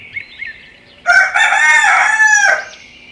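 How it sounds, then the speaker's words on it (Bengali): A rooster crows once, loud and close, in a Bangla cartoon story about a rooster and a fox, a long full cock-a-doodle-doo of about one and a half seconds after a quiet lead-in of faint chirps. "আরে, এটা তো দেখছি মুরগির ডাক"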